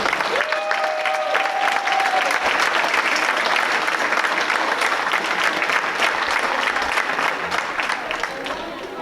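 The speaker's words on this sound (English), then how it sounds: "Another round of applause for our senior swimmers and divers." A crowd applauds senior swimmers and divers at a varsity swim meet, steady close clapping with a faint whistle early on, sustained for several seconds before easing slightly at the end.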